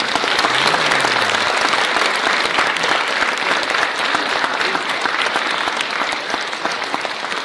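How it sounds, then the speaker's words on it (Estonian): An audience claps warmly and continuously, dense and loud applause that holds steady throughout and tapers slightly near the end. "Väga vahva aplaus."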